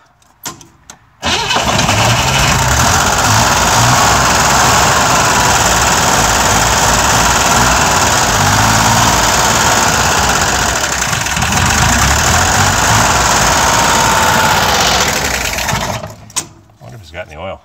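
A Chevrolet Corvair engine cranked cold, catching quickly and then running at a loud, rough, steady idle up close for most of the stretch before cutting off, with voices talking over it.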